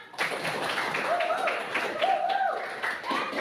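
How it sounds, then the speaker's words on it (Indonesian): A ninth-grade class applauds at the end of a lesson, a short burst of scattered hand clapping in a classroom with voices mixed in, moderately loud and close. "Tepuk tangan untuk kita semua."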